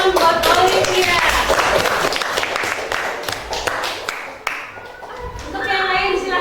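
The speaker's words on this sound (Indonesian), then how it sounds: "tepuk tangan buat Olivia." A classroom of students claps in a burst of sharp, dense hand claps that thins out midway, then swells again near the end, with children's voices chattering alongside.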